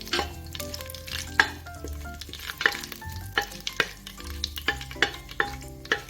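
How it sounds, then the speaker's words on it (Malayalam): Cinnamon, cloves and cardamom fry in hot oil in a pressure cooker for biryani, giving a soft sizzle with repeated clinking stirs of a spoon against the pot, under steady background music. "ഈ പട്ട, ഗ്രാമ്പൂ, ഏലക്ക എല്ലാം കൂടി ഇട്ട് മിക്സ് ചെയ്ത് എടുക്കാം"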